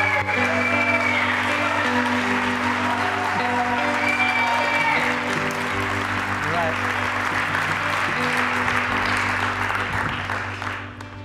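An audience at an Amherst Live stage event applauds steadily to welcome local farmer Dan Kaplan, dense sustained clapping from a full room that fades slightly at the end.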